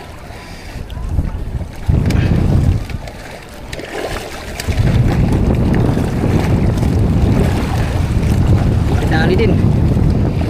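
Fishing boat out on a rough sea, with steady wind buffeting and water rushing against the hull, loud and continuous, rising after a few seconds; a brief voice is heard near the start.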